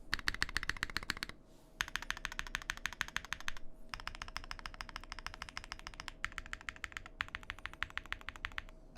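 Typing on a custom mechanical keyboard, close and crisp, with rapid bursts of clacking keystrokes separated by brief pauses and no talk.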